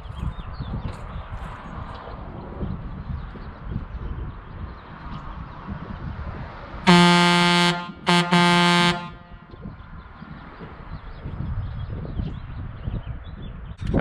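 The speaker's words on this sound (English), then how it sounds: "I'll blow the horn for this thing. I mean, everybody wants to hear the air horns, but the air horns do work." Air horns on a 1969 Kenworth W900A dump truck sound loud and close in two blasts, a long one and a second after a brief gap, over steady outdoor background noise.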